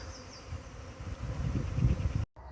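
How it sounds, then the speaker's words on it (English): A swarm of honey bees at an allotment plot, giving a low continuous droning buzz that swells in loudness, then cuts off briefly near the end. "I'm not sure from which bee plot they've come, but certainly they are swarming."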